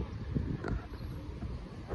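Wind buffets the microphone in a steady low rumble with gusty swells and no voices.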